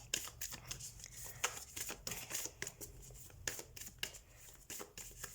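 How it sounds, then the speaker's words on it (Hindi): Tarot cards being shuffled by hand, a string of quick riffling flutters and soft slaps in irregular bursts, close and fairly quiet, with no voice. "सो कार्ड शफल कर लेते हैं।"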